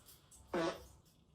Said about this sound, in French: Pourquoi tu pètes?